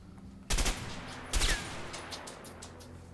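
Two loud, heavy M14 rifle shots ring out in the video game A Way Out, spaced about a second apart, each leaving a fading echo and a faint tail behind it.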